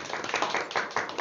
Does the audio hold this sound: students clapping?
yes